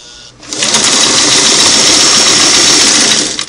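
A Singer Model 338 sewing machine runs a single-needle zigzag stitch at width 3 and 8 stitches per inch through layered denim, a steady, loud mechanical whir that starts after a brief quiet moment and holds evenly until it stops.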